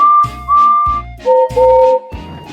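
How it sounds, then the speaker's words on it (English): A railway guard's high whistle sounds in several sustained blasts, some long and some short, with low rumbling pauses between them. "The guard blew his whistle"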